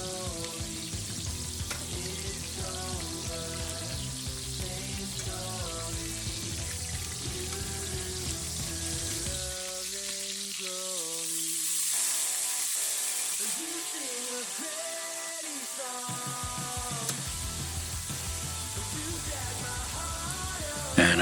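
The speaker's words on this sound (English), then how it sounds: "I just love the sound of a good steak frying in the pan" Ribeye steak sizzles and fries steadily in a hot pan, a continuous crackling hiss that runs throughout, with a voice talking over it and music playing in the background.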